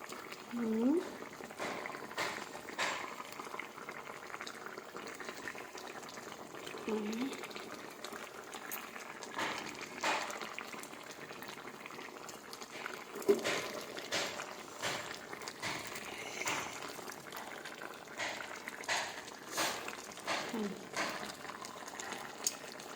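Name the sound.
eggplant pieces added one by one to boiling potatoes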